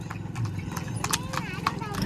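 A horse walks at a steady pace, its hooves clip-clopping in a regular rhythm close by. People talk over the hoofbeats.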